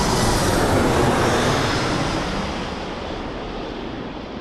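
A Ryanair airliner passing at Birmingham Airport, a loud broadband jet roar that gradually fades and dulls as the aircraft moves away, with no talk.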